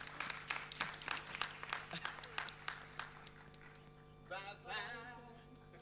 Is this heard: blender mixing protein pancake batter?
no